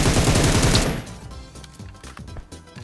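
Dense bursts of automatic gunfire from an enemy's weapon in the PUBG Mobile shooter, a loud heavy volley at first that thins into scattered, rapid cracks and shots for the rest, with no talk over it.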